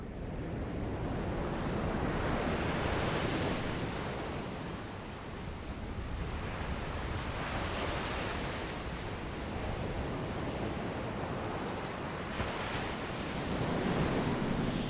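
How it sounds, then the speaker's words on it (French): Heavy surf roars continuously as huge waves crash on the windward coast of an Antarctic island, mixed with gusty wind buffeting the microphone, loud and unbroken with no voices. "les vagues énormes qui s'abattent sur la côte"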